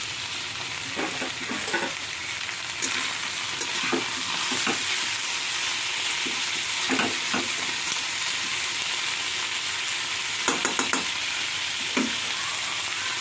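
Chopped tomatoes and green chillies fry in a pan with a steady, close sizzle throughout, broken by repeated scraping and stirring strokes of a spoon against the metal.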